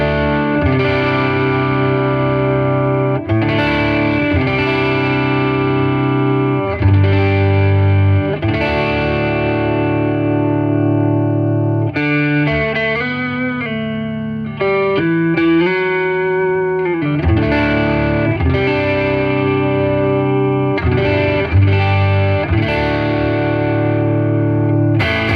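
A clean semi-hollow electric guitar on its neck pickup plays warm, rounded chords and melodic lines with a chorus-like shimmer, steady and loud with no talking.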